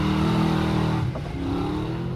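Prerunner truck racing at Valley Motocross dirt track during Midwest Dirtfest 2019, loud steady engine roar with a slight dip and recovery in revs, close and continuous, no talking.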